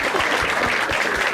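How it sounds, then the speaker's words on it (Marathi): A few people clap in quick, close rhythm for a moment, a short burst of hand claps with no talking over it. "एकदा टाळ्या वाजायच्यासाठी."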